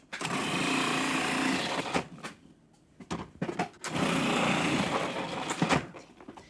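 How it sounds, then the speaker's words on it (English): A food processor shredding potatoes runs in two loud, close bursts with a short quiet gap between them and a brief whirring restart. "I just use a food processor because it is so darn quick and easy."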